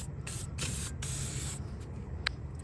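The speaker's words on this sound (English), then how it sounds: "Spray the crap out of it." Aerosol lubricant sprays in several bursts onto a rusted body-to-frame mount bolt under a VW Beetle, with a steady close hiss that pauses briefly between squirts.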